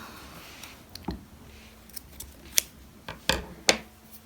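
Scissors cut yarn after a knot is tied for a striped hat, giving several sharp, close snips spaced unevenly over a few seconds in a quiet room.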